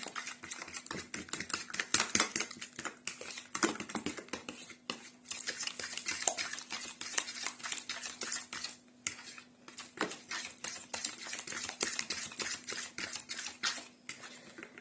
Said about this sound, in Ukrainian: і все це ми розмішаємо гарно